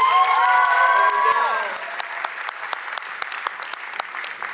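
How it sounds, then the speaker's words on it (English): A dance competition crowd claps and cheers loudly, whoops rising over the applause, then the clapping thins to scattered hand claps as it fades. "Give a round of applause, guys."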